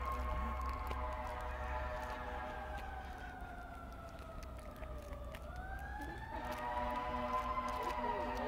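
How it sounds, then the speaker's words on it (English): Emergency sirens wail from a distance during a campfire cooking session outdoors, faint rising and falling tones drifting through quiet background hum, with no talking. "We did say we would hear sirens during the show."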